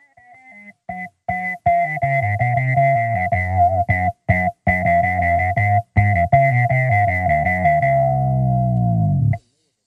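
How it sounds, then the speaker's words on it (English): A buzzy synthesizer tone plays choppy, stuttering bursts, then sustains and glides downward in pitch while fading out to silence. "You should now hear the effect of the sound going down and away from you."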